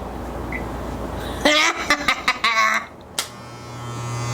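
Electric hair clipper cutting hair during an at-home haircut, a buzzing clipper rising in a few short bursts over a quiet room with faint background noise.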